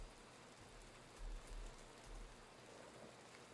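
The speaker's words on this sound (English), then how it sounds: "I love the sound of the rain." Steady, soft rainfall in the rhythm game Melatonin hisses evenly, with faint low rumbles swelling now and then beneath it.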